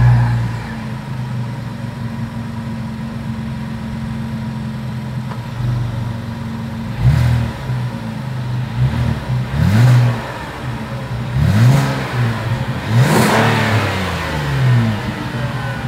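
A 2024 Kia Carnival minivan idles with a steady exhaust drone, then its engine is revved in several quick, loud blips in the second half, each rising and falling back to idle, heard up close at the exhaust with no talk.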